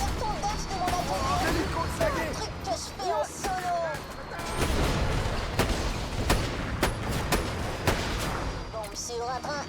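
Loud bursts of gunfire and heavy booms from a Borderlands 2 battle, with a big explosion, voices chattering and talking over the continuous combat noise.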